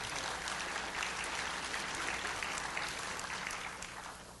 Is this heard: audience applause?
yes